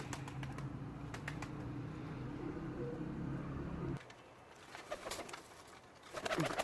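Low, soft cooing of a pigeon in the first few seconds, fairly close, with scattered clicks and rustles around it.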